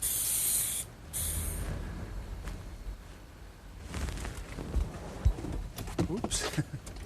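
Spray paint in a vanilla field colour hisses onto a mailbox in short close bursts, separated by quieter gaps with light handling noises.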